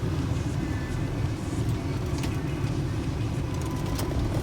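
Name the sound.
car engine running during a Copart walk around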